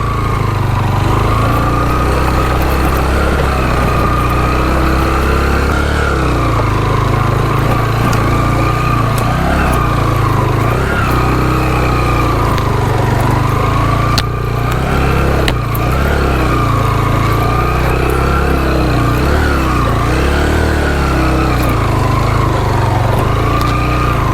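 Loud, close motorcycle engine labouring up the steep Ratti Gali Lake track in Kashmir's Neelum Valley, a sustained throbbing drone with gentle swells in revs and one brief dip, heard alone.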